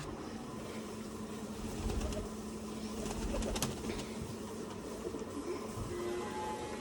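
Pigeons coo softly over a steady background hum, low rolling calls rising slightly in the middle, faint and fairly distant throughout.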